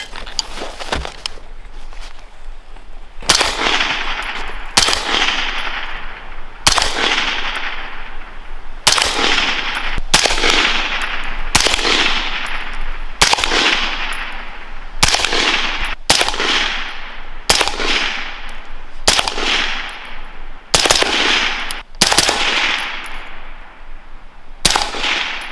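Rifle fire through a Griffin Recce 5 suppressor on a Colt 14.5-inch pinned-and-welded barrel, about twenty loud suppressed shots outdoors in an uneven slow string with brief echoes.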